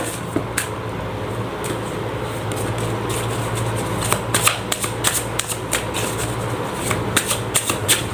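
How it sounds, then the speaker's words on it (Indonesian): Tarot cards are shuffled by hand, with soft riffling and sharp flicking snaps repeating irregularly and growing busier over a steady background hum, close up. "Langsung saja saya shuffle kartunya"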